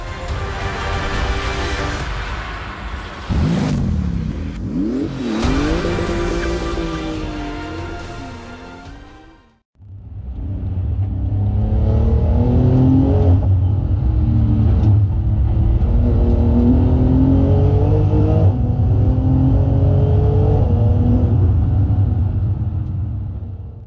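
A Porsche 911 GT2 RS accelerating up the Goodwood hillclimb, a loud engine roar climbing through gears with rising pitch sweeps, a brief cut, then a sustained, powerful run with repeated upshifts.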